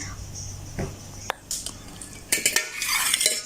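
A spoon scrapes and clinks in a pot while a white drumstick curry with lime juice is stirred, with sharp metallic knocks and wet scraping up close. Some faint talk mixes in.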